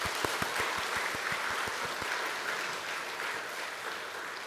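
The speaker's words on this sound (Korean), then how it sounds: "우리 여전도 회원들에게 사랑과 격려의 박수를 보내도록 하겠습니다" A church congregation at a Korean Sunday worship service applauds the women's mission society members, with broad sustained clapping filling the room and some sharper individual claps standing out early on.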